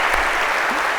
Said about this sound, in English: a big round of applause, if we could,